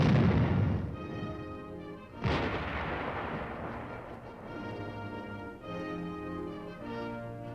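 Heavy weapon of a 1957 armor team firing direct fire during training, a single loud booming blast followed by a second report about two seconds later, each trailing into a long rumbling echo.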